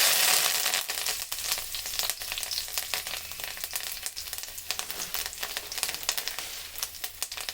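Tempering spices and curry leaves crackle and sizzle in hot oil in a kadai, a loud, close, popping fry that spits irregularly and softens slightly over time, with no voices.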